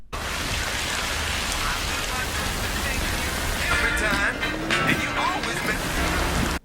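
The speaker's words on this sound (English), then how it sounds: "So we have rain" Steady rain pours down in a horror movie scene set in the 1990s, a constant dense hiss throughout, with some faint indistinct voices and other noises layered over it toward the end.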